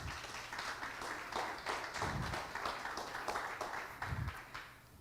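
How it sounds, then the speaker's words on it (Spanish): Worshippers at Iglesia Siloe in Honduras clap strongly for Jesus during a church service, sustained crowd applause with a few louder bursts, heard at a moderate distance over a low hum. "Dele fuertes palmas a Jesús."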